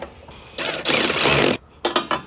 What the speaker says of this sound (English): And then we're going to grab our wrench.